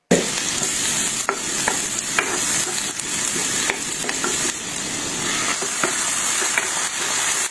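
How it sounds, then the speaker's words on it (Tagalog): Garlic, onion and tomato sauté in oil in a pan for binagoongang talong, with a steady, close sizzle throughout and repeated sharp scrapes and clicks of a utensil stirring the mixture. No voices are heard. "Bawasan muna natin ang mantika at mag-isa tayo dito ng bawang sibuyas at kamatis."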